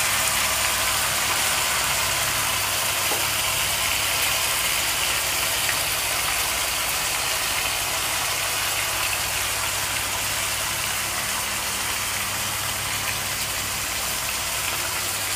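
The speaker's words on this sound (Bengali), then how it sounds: "এবার এর মধ্যে মাছগুলো দিয়ে ভালো করে ভেজে নেওয়া হবে" Bombil fish frying in hot mustard oil, a dense, even sizzling hiss that stays loud and unbroken throughout, close by, with no talk over it.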